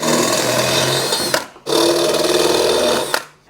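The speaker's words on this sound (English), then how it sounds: "dot my holes, and it's time to drill" A power drill whirs steadily at high speed drilling holes in a snowblower impeller paddle, stops briefly, then runs again for another long burst before cutting off.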